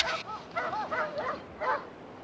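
Dogs in a film scene let out a quick run of high, yelping barks and whimpering yips, moderately loud and closely spaced, over a faint background hum.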